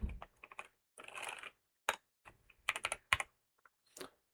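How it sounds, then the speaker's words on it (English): Keys on the BYOK Writing Device's computer keyboard are typed in uneven bursts of close, crisp clicks with short pauses between them, and no voices are heard. "So can I hit enter on the keyboard?"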